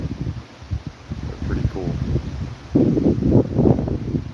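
Hurricane Helene gusts of 50 to 60 mph buffet the microphone in Orange Park, Florida, as a low, roaring rumble that surges and swells. Someone talks over the wind.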